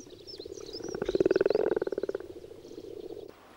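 Frogs croak in a mountain lake, a rapid pulsing trill that swells loud and close and then fades, with faint chirps behind it.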